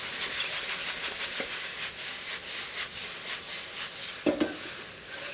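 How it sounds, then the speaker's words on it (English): Shanghai fried noodles sizzle and crackle in a hot wok, a close, steady frying hiss with brief clatters of stirring and tossing, no talk. "Now I can really hear that sizzle"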